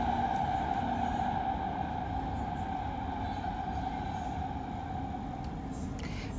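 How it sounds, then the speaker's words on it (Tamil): A Qatar metro train runs with a steady, continuous rumble and hum as heard from inside, with faint high squeaks near the end. "இந்த மெட்ரோ ட்ரெயின் போகும்"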